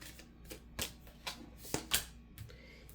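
Tarot cards are shuffled close by in a few sharp riffling flicks over about three seconds, with no talking.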